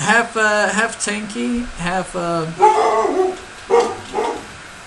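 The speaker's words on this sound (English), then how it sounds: "pardon my dog." A dog barks and yips several times close by while someone talks over it, the sharp barks breaking through his speech in short bursts.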